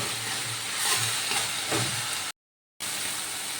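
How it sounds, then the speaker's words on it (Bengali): Masala paste for a coriander rohu fish curry fries in oil with a dense, steady hiss and soft stirring scrapes, then cuts out briefly to silence before resuming. "জল না দিয়ে মশলাটা ভালো করে কষাচ্ছি"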